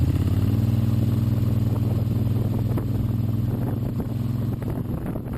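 A 1976 Moto Guzzi Convert motorcycle with automatic transmission moves off as the clutch is let out, its engine drone steady and loud under heavy wind buffeting on the microphone.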